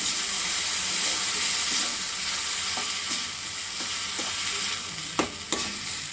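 Coconut chutney poured into hot tempering in a pan after the stove is switched off, giving a steady soft sizzle and hiss with a few sharp stirring clinks near the end.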